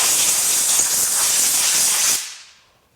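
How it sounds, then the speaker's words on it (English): Compressed air blasts out of a lathe scroll chuck in a loud, steady hiss that holds for about two seconds, then cuts off and fades to silence. "clean with compressed air."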